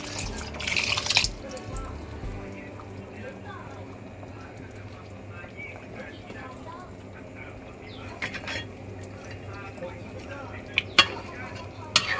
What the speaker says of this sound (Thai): เราก็จะเติมกะทิลงไปนิดหนึ่งค่ะ หัวกะทิ